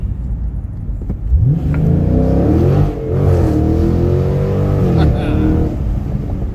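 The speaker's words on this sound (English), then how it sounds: "the difference from just driving to when you nail it and that active exhaust kicks in" A 2019 Dodge Challenger with active exhaust accelerates hard, a loud, close engine roar rising in pitch and holding through several seconds, with a brief dip as the revs shift before climbing again.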